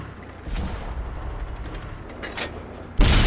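Tank gunfire in World of Tanks with a T110E5, a sequence of low booming shots and mechanical clanks ending in a sudden loud blast as a round strikes the ammo rack.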